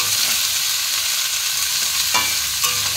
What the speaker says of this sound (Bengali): পরিমাণ মতো লবণ দিয়ে ভালো করে এবার মিশিয়ে নেব